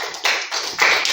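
A small group of students clapping in a classroom, a few loud, close bursts of claps arriving in uneven waves over about a second, with no talking.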